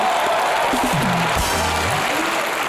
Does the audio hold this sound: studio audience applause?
yes